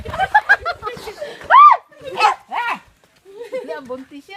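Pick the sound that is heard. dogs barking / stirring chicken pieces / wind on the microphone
dogs barking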